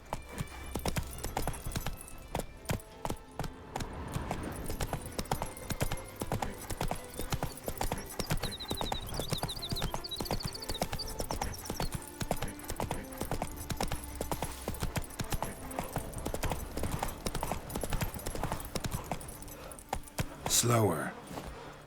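Geralt's horse Roach in The Witcher 3 clip-clopping at a steady, rhythmic pace, hooves clear and close throughout, with occasional voices and game sounds over the top and a brief whinny near the end.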